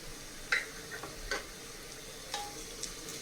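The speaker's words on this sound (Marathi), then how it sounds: "तर याला आपण छान भाजून घेऊ आणि हे सर्व एकत्र करून घेणार आहोत" Red chili powder, coriander powder, biryani masala and turmeric are roasted in a pan for veg biryani, with a faint low sizzle and a few soft, scattered clicks of stirring.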